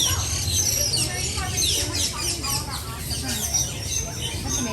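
Birds chirp and squawk around their nests in an outdoor animal park habitat, a busy scatter of overlapping calls at moderate distance while people talk nearby.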